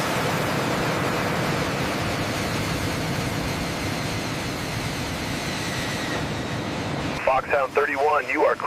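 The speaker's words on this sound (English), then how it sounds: "The MiG-31 Foxhound accelerates with immense power." MiG-31 Foxhound jet engines roar at takeoff power as the interceptor accelerates down the runway, a loud broad steady rush that holds for several seconds before it gives way to a burst of radio-like chatter near the end.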